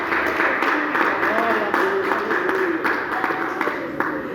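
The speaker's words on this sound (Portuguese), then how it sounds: "Pode aplaudir este Deus e glorificar o nome do Senhor." Church congregation applauding in praise, a continuous wash of many hands clapping throughout, with a voice carrying over the noise.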